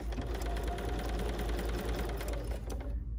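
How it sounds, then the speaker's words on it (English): Domestic sewing machine stitching along a line on a quilt block, a steady fast mechanical whirring and rapid needle chatter running continuously and close before cutting off at the end. "I'm gonna stitch right on this first line here."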